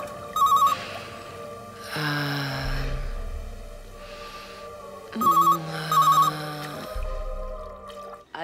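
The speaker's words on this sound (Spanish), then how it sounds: "¿Alguien le está sonando un celular?" A mobile phone ringtone plays in two loud, melodic bursts separated by a pause, the electronic tones repeating a short musical pattern over soft background sound.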